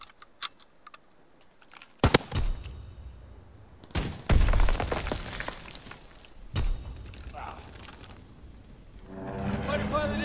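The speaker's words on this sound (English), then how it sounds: "Fighter pilot inbound. Strafing the target." A fighter aircraft strafes a target in a World War II game, delivering a few sharp, loud bursts of gunfire separated by quieter gaps, with a voice speaking between them.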